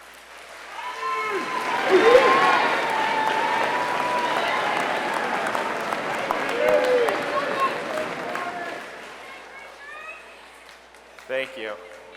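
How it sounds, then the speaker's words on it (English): A graduation audience at a high school ceremony breaks into applause that swells and holds for several seconds before tapering off, with cheers and whoops mixed in and voices calling out near the end. "give them a big round of applause for being here for you today"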